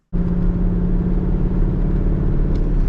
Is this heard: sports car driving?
yes